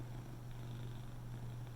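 A cat purrs steadily and close, a low continuous rumble with no other sounds around it.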